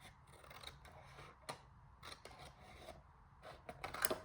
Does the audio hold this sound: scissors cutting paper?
yes